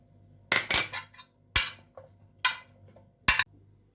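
Potato pieces are tossed with oil and spices in a bowl, making several separate clinking, scraping bursts against the dish with short pauses between them.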